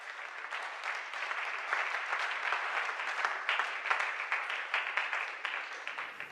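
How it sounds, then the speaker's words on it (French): Sustained audience applause for the candidates at a TV show's opening prime, Maajabu Rafiki: dense, steady clapping from a large crowd lasting several seconds with no voices over it. "Est-ce qu'on peut applaudir les candidats?"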